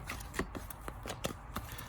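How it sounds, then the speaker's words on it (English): Quick riffle and shuffle of a deck of board game cards from Hunted: Santa's Workshop, a rapid series of soft papery flicks and snaps up close and fairly quiet. "Let me go ahead and give these guys a good shuffle."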